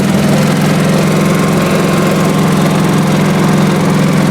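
A 1986 Honda HT3810 riding lawn mower runs steadily up close, its engine holding a loud, even drone with a constant low hum and no voices over it.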